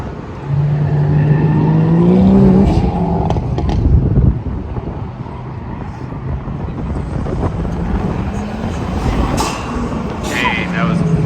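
A Hyundai Veloster N and a Nissan R32 GTR race on a track, engines droning and shifting pitch as they pass, with wind buffeting the microphone and a voice talking over the noise.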